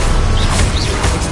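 Confringo blasting curse spell cast in the Hogwarts Legacy video game, a loud, dense burst of crackling noise that fills the short moment at close range.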